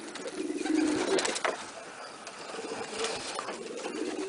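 Pigeons feeding in a loft give soft, low cooing calls close by, a murmuring flock sound with occasional fluttering over steady background noise.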